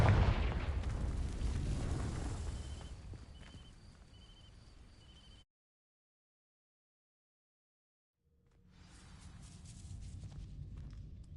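A Confringo fire spell blast hits dry vines in Hogwarts Legacy: a loud, roaring burst at the start that fades over several seconds and cuts to silence, then softer ambient rumble returns.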